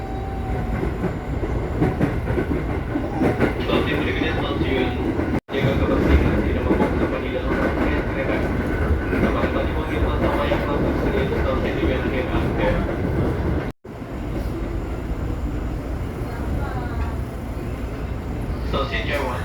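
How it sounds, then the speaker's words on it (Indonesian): A KRL commuter train runs steadily with a continuous rumble and rail clatter heard from inside the carriage, while people talk over it throughout. "Oke, kita udah di dalam KRL"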